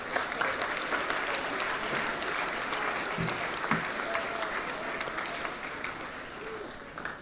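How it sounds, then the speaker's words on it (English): Applause at a school sports assembly for a student team, an even, continuous patter of many hands heard at a moderate distance in a large hall, holding steady throughout. "Give them a round of applause, please."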